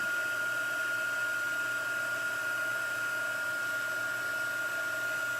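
A handheld heat gun blows steadily to melt embossing powder, a constant airy roar with a thin whine riding on top, close and unbroken, with no one talking.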